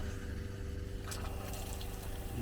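An RV water pump draws antifreeze through a faucet, giving a faint steady hum with a low trickle and splash of liquid. Sputtering bursts of flow come from the tap partway through.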